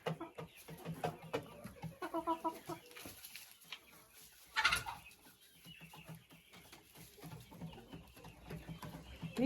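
Laying hens cluck through a backyard coop, several birds close by with overlapping calls, including one louder burst midway.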